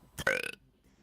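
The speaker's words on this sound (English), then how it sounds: "My burps are so bad." A single close burp from a person with stomach reflux trouble, a short rough gulp that rises into a louder croaking belch lasting about half a second, then quiet.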